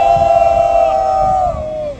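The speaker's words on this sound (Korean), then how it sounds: "우리 모두 격려의 함성 와를 3초간 부탁드립니다." A crowd at an outdoor press conference in Seoul, in front of the Yi Sun-sin statue, lets out a sustained unison shout of "wah" in encouragement, one loud held cheer lasting about two seconds before trailing off.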